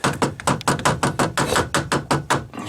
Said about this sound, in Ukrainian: Та я ж потрошку, я ж гумовим молотком.